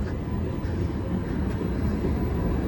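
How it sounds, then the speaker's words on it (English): The number 2 tram in Budapest rolls past, a low, steady rumble of wheels and motor that carries on without a break, with no talk over it. "And here we see again the number 2 tram."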